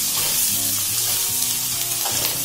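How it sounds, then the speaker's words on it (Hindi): Spices and curry leaves pop and sizzle in hot oil while a pumpkin dish is cooked, a loud, close crackling fry with the tempering stirred as it goes. "थोड़ा सा इसको तेल में पॉप कर लेंगे हम"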